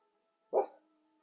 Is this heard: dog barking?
yes